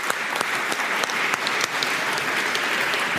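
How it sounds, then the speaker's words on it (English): A live podcast crowd at St. Joseph's Football Club breaks into hearty applause, dense clapping with sharp individual claps standing out, close and loud, sustained for a few seconds without talk. "So give yourselves a round of applause"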